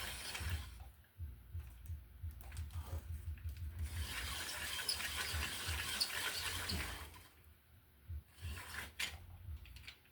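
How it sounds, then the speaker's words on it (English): A hand crank being turned while installing security lighting, heard as a soft ratcheting, gear-like mechanical whir that runs in bursts with short pauses, quiet and close, with no talk. "crank and just turn it like this"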